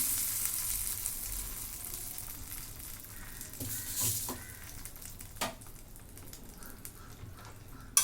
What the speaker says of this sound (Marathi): आता ही फोडणी चटणीमध्ये ओतून घेते